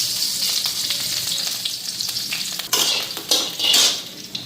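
Nigella seeds and green chilies hit hot oil, making a loud, bright sizzle that stays steady, then flares into stronger hissing bursts as the spices are stirred in the pan.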